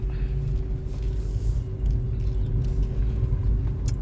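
A car on a drive gives a steady low engine and road rumble heard from inside the cabin, continuous and fairly loud throughout.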